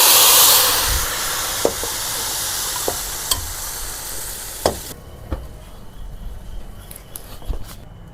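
Hot tadka tempering poured into a pot of kadhi gives a loud hissing sizzle that slowly fades, with a few clinks of utensils against the pot and no voices.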